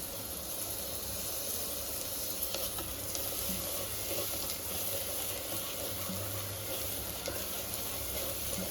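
Steady, even sizzling of coriander dropped into hot oil in a pan for mutton gravy, a constant frying hiss with small crackles, no voices.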